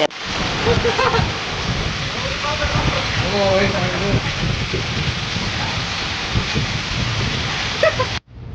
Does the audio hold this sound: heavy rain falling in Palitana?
yes